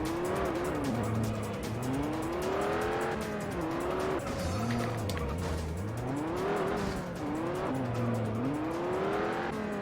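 A race car in the Juiced video game lapping a circuit, engine note rising and falling through repeated gear changes and corners, loud and close, with occasional tire squeal and no talking.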